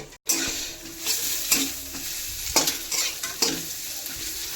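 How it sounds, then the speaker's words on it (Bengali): Onions fry in a wok, a continuous close sizzle broken by repeated scraping strokes of a stirring spatula at a steady rhythm. "এদিকে বসে গেছে পেঁয়াজ কড়াই হালকা ভাজো ভাজো ভাজো ভাজো হয়ে যাবে"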